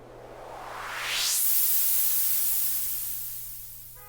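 Synthesized white noise sweep for EDM, rising from a low hiss into a bright, loud wash and then slowly fading out under a long reverb tail, with no other sounds over it.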